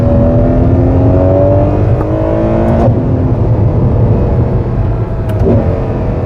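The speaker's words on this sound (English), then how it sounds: "Some nice V12 sounds." A Ferrari 12Cilindri V12 engine drones steadily up close with rising and falling revs, a rich mechanical hum filling the whole stretch.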